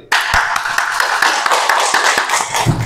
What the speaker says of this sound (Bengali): সবাই ফাহাদের জন্য আবার হাততালি।